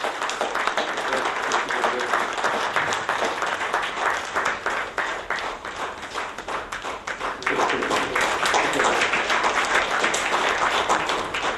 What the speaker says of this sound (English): Let's give a big round of applause to Mr. Prabhakar also